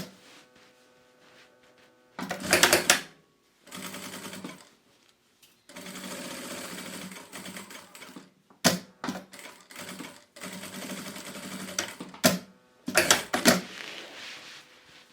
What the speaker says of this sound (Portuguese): agora eu vou passar um retrocesso aqui prendendo essas alças.